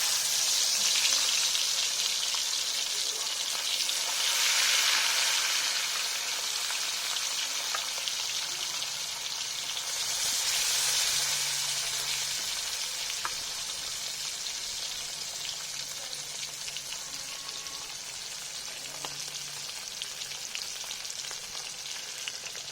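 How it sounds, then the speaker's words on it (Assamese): Fish pieces frying in hot oil in a wok give a steady close sizzle with loud crackling surges near the start and middle, then a softer continuous fry with no voices. "এতিয়া মই এটা এটাকৈ মাছ কেৰাহীত দি দিছোঁ।"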